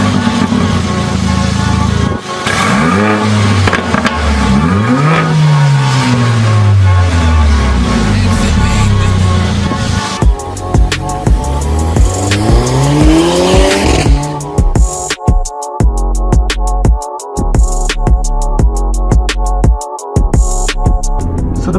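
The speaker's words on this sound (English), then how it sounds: "until you twist the key and hear this engine." A 2020 Mercedes GLA45 AMG four-cylinder engine fires up and revs hard, loud and close, with sweeping rising and falling revs, then sharp blips and gear-shift crackles toward the end, with no talking.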